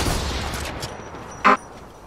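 A single sharp sniper shot cracks out in an Apex Legends match, loud and abrupt against a busy background of game ambience and quieter gunfire earlier on.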